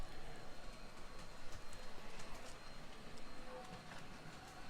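An O gauge Steelers passenger set runs on a model train layout, giving a steady faint rolling rumble with light rhythmic clicking of wheels on track, continuous and without talk.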